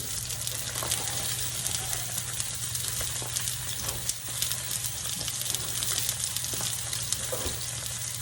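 A salmon fillet fries and crisps in a hot pan for a keto dish, a steady close sizzle with a constant crackle and spit running unbroken throughout, no voices.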